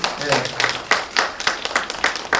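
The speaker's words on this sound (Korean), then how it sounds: "없다고 박수 한번 크게 한번 쳐주시면" An audience at a forum on organizational communication claps together in a rhythmic beat, with distinct clap bursts repeating at regular intervals and a voice briefly audible near the start.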